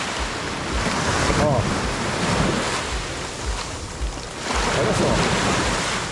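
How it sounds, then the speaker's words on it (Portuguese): High-tide surf at Praia dos Carneiros in Tamandaré, Pernambuco: a continuous roar of breaking waves with gusting wind across the microphone, and someone speaking over it. "a água já tá estourando tudo por aqui"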